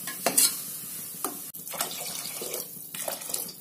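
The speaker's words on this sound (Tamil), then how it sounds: "எல்லாத்தையும் நல்லா கலந்து விட்டுறலாம்." Spices (crushed ingredients, pepper, cumin and coriander powder) are stirred in a pot for goat trotter soup: a few short scraping, swishing strokes over a soft watery background, close and fairly quiet, with no talking.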